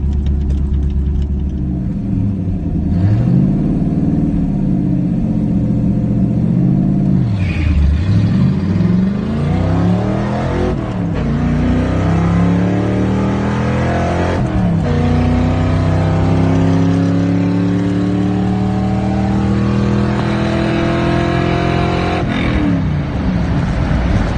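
A Ford Mustang Foxbody and a Ford Focus drag racing: a loud, sustained engine roar that climbs in pitch, drops at each gear change, and climbs again, steady from start to finish.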